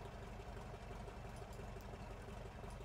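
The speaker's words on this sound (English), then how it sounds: "That engine sound is glorious." Steady, low, droning idle of a Tiger Moth biplane's engine in Microsoft Flight Simulator, a continuous rumble with no breaks and no talking.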